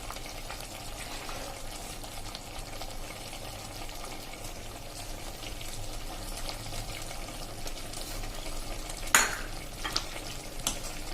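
Papad curry with fresh coriander is stirred in a pan with the gas just turned off: a soft, continuous scraping and faint sizzle, with a brighter clink of the spoon against the pan near the end.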